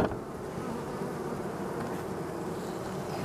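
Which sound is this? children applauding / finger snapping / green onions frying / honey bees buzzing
honey bees buzzing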